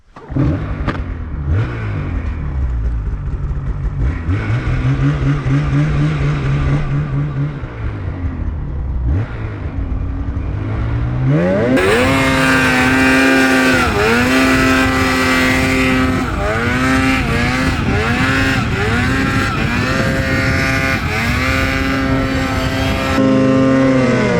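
A Polaris RMK Khaos snowmobile climbs a snowy slope, its loud engine droning steadily, then surging into a higher, revving whine with repeated pitch swells that carries to the end without pause.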